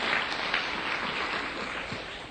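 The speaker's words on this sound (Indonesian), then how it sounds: "Berikan tepuk tangan yang meriah buat Tuhan." A church congregation claps in a steady, dense burst of applause that holds evenly for a couple of seconds, moderately loud and slightly distant.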